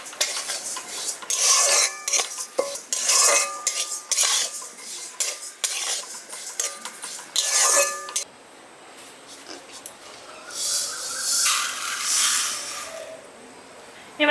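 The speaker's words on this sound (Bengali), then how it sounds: "এবার ডালিয়াটা আমি হালকা একটু ভেজে নিচ্ছি" Broken wheat (dalia) is lightly fried and stirred in a pan. A utensil scrapes and clatters against the metal in busy bursts that go on and off, then settle into softer, quieter scraping.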